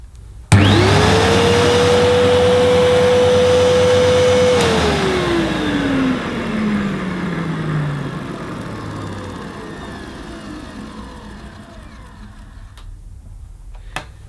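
A Hoover U3330 PurePower upright vacuum cleaner switches on with a sudden whine, holds a loud steady motor tone for a few seconds, then is shut off and winds down in a long falling hum.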